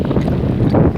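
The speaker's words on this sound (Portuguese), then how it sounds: "Tá muito vento." Strong wind buffets the microphone during a bicycle ride, a loud continuous low rumble and roar with no voices.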